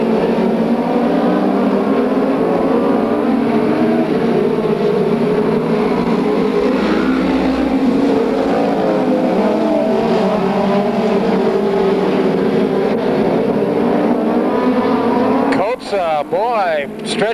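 USAC Western States midget race cars race at Bakersfield, California, a continuous loud engine roar with shifting pitch as cars run nose to tail, under steady announcer commentary.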